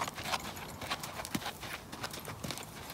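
A horse schooled in a halter walks along with hooves clip-clopping in an irregular, moderately loud rhythm, close by, with a few brief other noises between steps.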